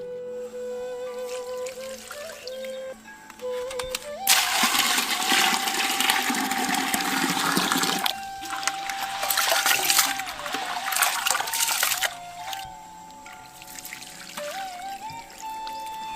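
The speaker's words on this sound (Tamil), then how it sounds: "ஒண்ணுக்கு 2 முறைன்னு தண்ணி ஊத்தி அரிசியை நல்லா கழுவிக்கிட்டாச்சு" Water pours and splashes over rice soaked for three days, being washed for Kanchipuram idli batter, in two fairly quiet gushing bursts with trickling in between.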